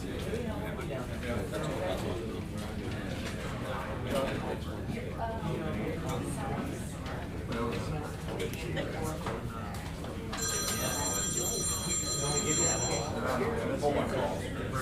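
A telephone rings with a repeated electronic trill during a commission meeting, fairly clear for a few seconds over steady room chatter and people talking.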